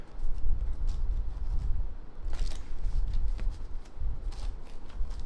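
Elestrals trading cards riffled and shuffled in quick bursts, close up, with a steady low rumble of handling noise throughout.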